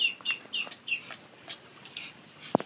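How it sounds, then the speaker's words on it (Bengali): A backyard flock of roosters and hens clucks in short, scattered bursts at close to moderate distance, with a louder sharp call near the end and no speech. "এই দেখেন আমাদের মোরগ মুরগিগুলা"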